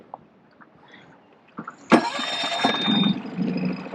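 Hydrofoil boat engine starting at the push of a start button, a few faint clicks followed by a sudden crank and catch, then a steady low idle rumble close by.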